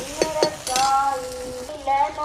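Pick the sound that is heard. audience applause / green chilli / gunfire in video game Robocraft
green chilli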